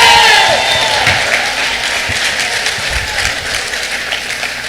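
A church congregation applauds a preacher in a loud, dense burst of clapping that starts at full strength and slowly tapers while staying steady, with faint voices underneath.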